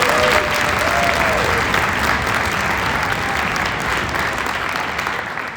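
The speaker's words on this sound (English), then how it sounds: "Let's give them a giant round of applause too." Loud, dense applause from the audience at an honor band concert, sustained and even throughout before tapering slightly at the end, with faint voices mixed into the clapping.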